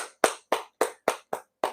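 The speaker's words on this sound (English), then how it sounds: "Even as a Dolphins fan, I'm clapping it up" Seven sharp hand claps in a steady rhythm, close and clear, each one isolated by a short silence.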